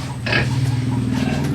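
Several pigs oink and grunt on a farm, with one sharp squeal near the start and then a run of close, rhythmic low grunts over quiet farmyard background.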